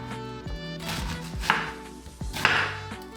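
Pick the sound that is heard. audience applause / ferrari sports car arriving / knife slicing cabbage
knife slicing cabbage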